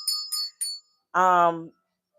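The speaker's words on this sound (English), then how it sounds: "They heard that bell." Three quick, bright bell dings of a small money bell, followed by a longer sustained tone, close and clear with silence between.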